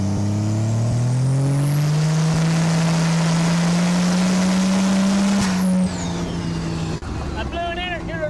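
A Cummins diesel engine swapped into a Cadillac revs loudly with a rising drone, then a sharp pop as an intercooler boost boot blows off, followed by settling engine noise.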